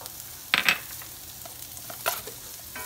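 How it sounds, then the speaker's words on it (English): Butter hits a pan of sweated onions, making a quiet, steady sizzle with a couple of brief sharp crackles and utensil clicks. "Now I'm gonna put a little bit of butter"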